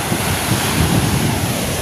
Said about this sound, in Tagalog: Sobrang lakas ng hangin at sobrang lalaki ng alon mga kapayaso.